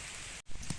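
Heavy rain falls steadily in a rural Thai mushroom-foraging setting, a dense even hiss broken by a brief dropout before the downpour resumes.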